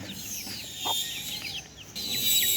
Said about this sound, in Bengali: এই যে বাচ্চাটা বাচ্চাটা দেশি মুরগির বাচ্চাটা